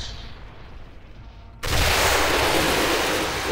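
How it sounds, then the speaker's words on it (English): Gunfire erupts in the sci-fi shooter Quake 4: after a quieter stretch of rumbling game noise, a sudden loud sustained barrage of heavy automatic fire starts and fills the rest, with no talk. "Those rounds have a lot of energy. Nice shooting, Kane."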